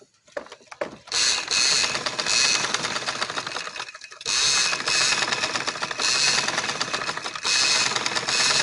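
Sewing machine running in long continuous bursts while stitching a trouser, a steady rapid mechanical whir with brief pauses between runs, close and loud with no talking.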